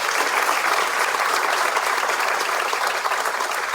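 Audience applause fills a civic State of the City address in Whitehall, 2024: a dense, steady wash of many hands clapping at even loudness throughout, without voices.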